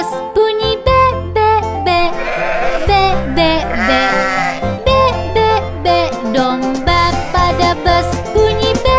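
In a children's song about a bus, a voice imitates a sheep with rapid repeated bleats over bouncy music with a steady beat.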